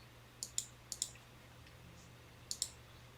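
Keystrokes on a computer keyboard, typed into a search field on a cloud management console: three quick pairs of sharp, close clicks spread over a few seconds against a faint steady hum, with no talking.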